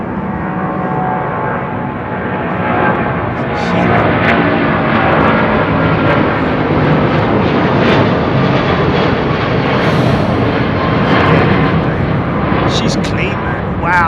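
An airliner takes off at London Heathrow Airport, a loud, steady roar of jet engines building and holding close by, with faint voices underneath.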